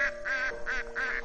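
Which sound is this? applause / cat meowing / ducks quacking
ducks quacking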